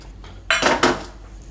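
Rice being washed in a metal pot in a home kitchen, with two quick bursts of clattering and sloshing against the metal, close and loud between quieter moments.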